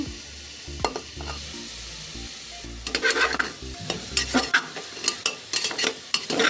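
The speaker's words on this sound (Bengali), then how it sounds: "কুকারটা একটু ছোট, অসুবিধা হচ্ছে নাড়তে" Fried bottle gourd and fried lentils are stirred with a utensil inside a small pressure cooker, giving repeated scraping and knocking against the metal over a steady sizzle.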